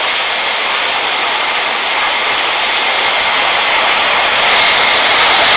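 Jet airliner engines roar at takeoff thrust in Real Flight Simulator, a loud, steady, broadband whine and rush held throughout without voices.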